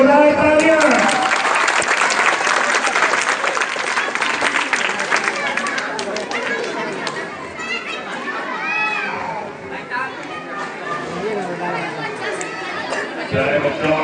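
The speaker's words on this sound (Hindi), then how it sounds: "खान के लिए जोरदार तालियां।" Loud audience applause for a speaker at a student gathering with many children; dense clapping for the first six seconds, then fading into noisy chatter and children's voices with scattered claps.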